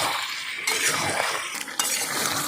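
Duck meat being stir-fried in a pot, with loud, continuous sizzling and repeated metal scraping of a spatula against the pot, close by and without voices.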